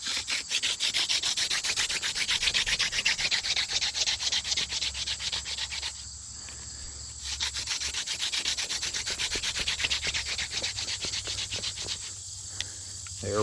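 A cattail spindle drilled by friction into a soft board, producing a steady, rhythmic rasping scrape with fast back-and-forth strokes, close and continuous, briefly pausing twice.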